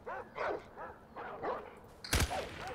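Dogs in the video game Far Cry 4 bark and yip in a steady run of short, repeated calls, then a sharp loud burst near the end is followed by a few more barks.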